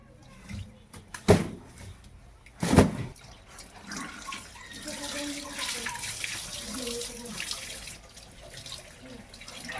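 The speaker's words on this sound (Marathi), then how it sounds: "ते पाणी आहे ना तिकडे टाक बरं का. इथं नको टाकू." Water is poured and splashes while quilts are being washed, two sharp slaps early on, then steady running and splashing water at moderate loudness, close up.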